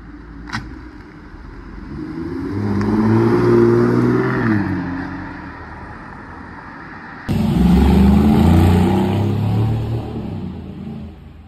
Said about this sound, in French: petite DB9, donc je vais essayer de vous la filmer partir